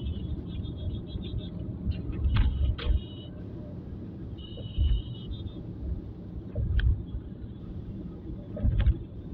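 Road traffic rumbles past on the Bangla Motor flyover in Dhaka, a low continuous drone with louder swells as vehicles pass close and faint horn-like tones above.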